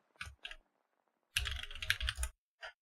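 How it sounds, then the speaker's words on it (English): Computer keyboard typing at a desk during a drawing session, with a couple of short keystroke clusters, then a dense burst of rapid clacking keys, and a final brief tap, close and clear with no talking. "I'm pretty sure you can like hear my keyboard very, very clearly when I type"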